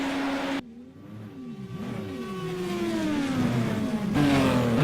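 Simulated race car idling and revving hard in the pit lane, a sustained engine tone rising and falling in pitch before surging louder near the end, heard without talk.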